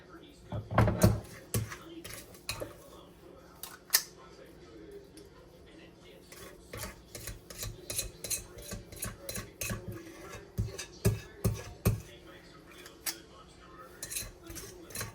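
A metal spoon scoops and dollops snickerdoodle apple cobbler mixture into a baking dish, giving a series of irregular clinks and scrapes, some sharp and close, with quieter pauses between them.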